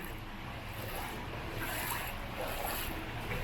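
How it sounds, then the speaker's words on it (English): Strong monsoon floodwater rushes through a street in Pattaya, a steady, dense roar of moving water close to the microphone, with some wind buffeting and no clear speech. "There's a big current coming here. It's hard to walk. I'm fighting the water."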